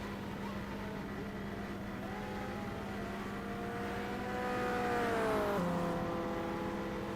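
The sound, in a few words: race car engine passing in a racing video game, like a VW engine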